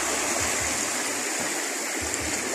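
Creek water flowing in a steady, continuous rush with gurgling texture, close and fairly loud, filling the whole span without any talking.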